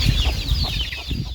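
Chickens cluck steadily on a poultry farm, a close, busy layer of overlapping hen calls with scattered louder clucks and no talk.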